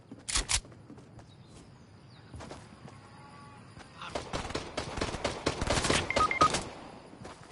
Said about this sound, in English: How did I just die from a pistol?